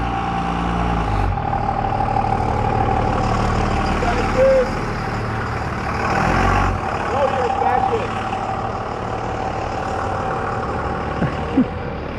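A large truck engine rumbles at a Seattle city intersection, a heavy low idle and revving near the listener, with brief higher squeals and other traffic around it.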